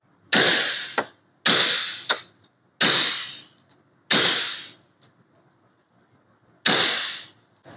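Hornady Subsonic rounds fired from a pistol with a Rugged Obsidian 9 suppressor, five sharp, loud cracks spaced about a second apart, each followed by a quick metallic clank and short decay, then quiet.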